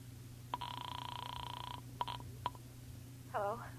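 A rotary-era telephone dialed as a radio drama effect: a sustained dial tone followed by several short, distinct clicks as the number is entered, close and clear over a low steady hum, with a brief voice-like sound at the end.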